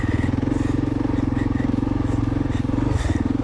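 A 2010 Kawasaki KLR650 with upgraded suspension rides on dirt, its single-cylinder engine chugging in a steady, close, loud pulsing thrum throughout, with faint clatter over the top.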